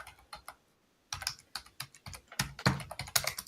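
Computer keyboard keys clatter in quick, uneven bursts of typing, close and crisp, with a brief pause before the tapping resumes faster and louder.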